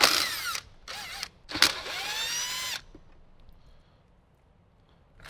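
Power drill with a 7mm socket spinning out the four corner bolts holding a Jeep Wrangler JK radio, heard as several loud, close whirring bursts with brief pauses, then fading to quiet.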